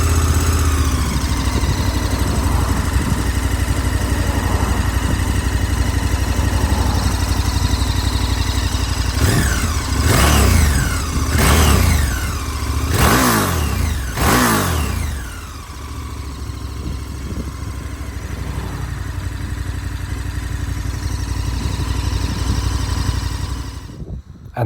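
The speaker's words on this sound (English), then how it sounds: "So this is the stock exhaust." A KTM 1290 Super Adventure motorcycle with its stock exhaust idles with a steady throb, then gets blipped through several quick sharp revs in a row before settling back to idle, recorded up close.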